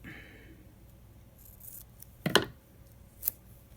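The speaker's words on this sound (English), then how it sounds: "I'm going to cut the edge because I do want it to be straight." Scissors snip through washi tape up close, with a sharp cut and then a second, lighter snip about a second later over a quiet background.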